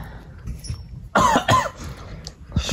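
Two sharp, close coughs in quick succession, followed by a softer third cough, over a quiet background.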